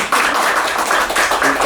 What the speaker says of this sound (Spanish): creo que realmente se merece un aplauso